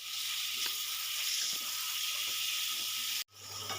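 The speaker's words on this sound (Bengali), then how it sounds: "এবার আমি ভালো করে কষিয়ে নেবো পাঁচ থেকে সাত মিনিট" Marinated prawns and chicken with green chillies sautéing in a pan, giving a constant close sizzle with faint stirring taps, then a sudden brief cutoff before the sizzle resumes.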